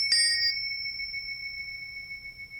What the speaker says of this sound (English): So you start with the ringing of the bell.